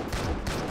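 Rapid gunfire from the HK G28 rifle in the video game CrossFire, a dense burst of shots with a short gap partway through, loud and close with no talking.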